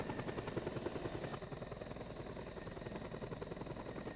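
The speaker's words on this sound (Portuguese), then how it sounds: "Kakashi, tá dando barulho de helicóptero" Steady helicopter rotor thumping in a game, a fast rhythmic chop with engine drone, constant and moderately loud throughout.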